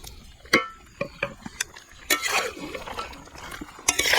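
Spoon scraping and clanking in a metal pot while chicken is mixed with yogurt, village-style chicken curry cooking; irregular sharp knocks and stirring scrapes, close and fairly quiet, no voices.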